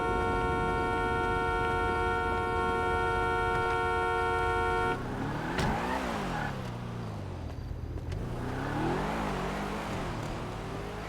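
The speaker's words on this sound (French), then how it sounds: "j'entends une voiture, peut-être qu'on pourrait faire l'autostop" A car in a roleplay video game drives nearby through a rough neighbourhood, its engine rising and falling in pitch in two swelling passes after a steady tonal hum, fairly loud with no talk.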